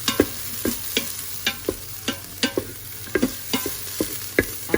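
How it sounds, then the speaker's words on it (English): Vegetables sauté in a hot pan with a steady sizzle, while a utensil scrapes and taps the pan in a quick, regular stirring rhythm, close and clear. "just gonna saute it a little bit more"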